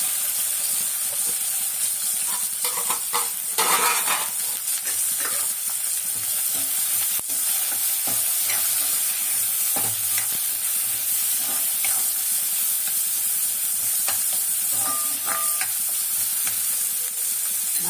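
Garlic, small country onions, mustard seeds, fenugreek and vadagam sautéing in hot oil for a homemade kuzhambu, a steady close sizzle and hiss with occasional stirring scrapes throughout.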